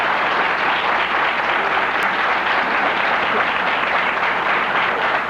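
A crowd at a 1993 Republican political debate breaks into dense, continuous applause that holds at a steady level throughout.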